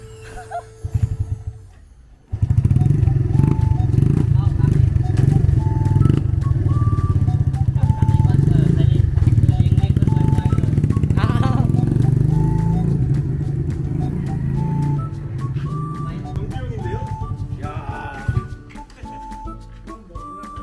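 After a brief quiet moment, a restored motorcycle engine in Laos starts up and idles with a steady, loud rumble, with small shifts in its note throughout.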